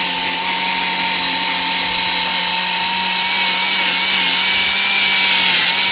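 Power buffer polishing a plastic car headlight, a loud continuous motor whine with a steady tone that holds evenly throughout, no speech.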